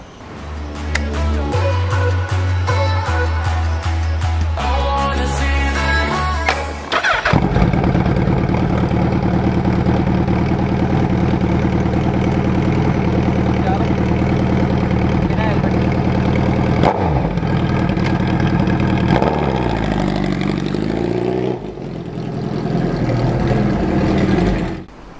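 Motorbike engine starting and riding off on a road in India, ridden without a helmet: a loud engine turns over, then a steady running drone with shifts in pitch as it pulls away, sustained to the end.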